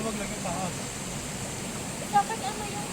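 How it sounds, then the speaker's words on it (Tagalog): Steady broadband rushing of river water flowing at an outdoor riverside spot, a continuous wash under faint background voices. "yung lagasgas ng tubig ng ilog"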